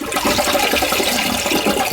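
A toilet with a flushing fault rushes and gurgles in a steady, loud swirl of water up close, continuous for the whole moment.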